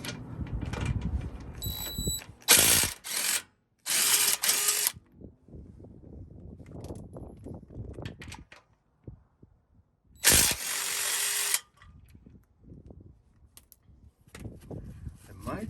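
Ratchet wrench turning 15mm bolts off a 2019 Ram Power Wagon during a Carli high mount stabilizer install, with bursts of fast clicking ratcheting between quieter stretches of handling noise and faint talk, close by.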